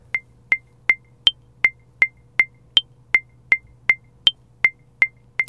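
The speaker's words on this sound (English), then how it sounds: "A metronome will sound like this." A metronome ticks a steady 4/4 beat with sharp, dry clicks at a brisk, even tempo, and every fourth click is pitched higher as the accent, crisp and isolated over a faint low hum.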